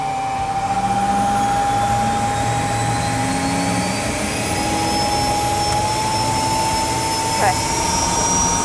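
A jet engine runs at low idle, producing a loud, steady turbine whine with a sustained high tone over a broad roar. A single brief spoken word cuts in once.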